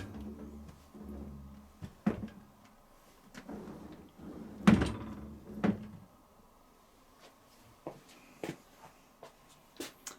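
A Bosch SGS53C12GB Classixx full-size dishwasher door being pushed in and pulled down open, giving a few close clunks and plastic clicks around the hinge, then scattered small knocks and rattles of racks.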